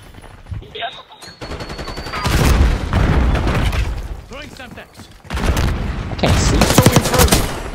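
In Call of Duty Black Ops 6, rattling automatic gunfire and a booming grenade blast come in two loud bursts, close by, while someone talks over the shooting.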